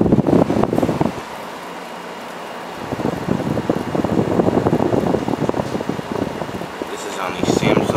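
A 2007 Samsung 10,200 BTU window air conditioner running on high fan, a steady loud airy whoosh with someone talking over it for most of the stretch.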